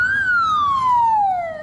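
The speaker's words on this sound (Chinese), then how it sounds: "大货消防车甲救护车伫炼油厂进出，陆续有17台消防车到场" A single emergency siren from a fire engine or ambulance responding to a hydrogen sulfide gas leak at the Taoyuan oil refinery wails loud and close, one long tone gliding slowly downward.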